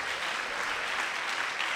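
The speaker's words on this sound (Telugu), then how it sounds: "చప్పట్లు కొడుతూ దేవునికి స్తోత్రం చెప్తారు." A church congregation applauds during a Sunday service with dense, steady clapping from many hands, filling the room evenly for a short stretch.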